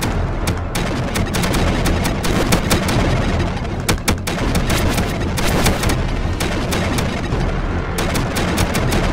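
Rapid, loud gunfire in a horror-style video game, dense bursts of repeated shots that are nearly continuous, with a few brief gaps between volleys.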